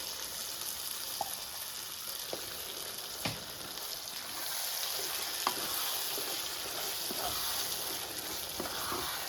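Blended paste sizzles and fries steadily in a pan of country chicken curry made with melon seeds, pumpkin seeds and cashews, with a few sharp spatula clinks and stirring scrapes over the constant hiss.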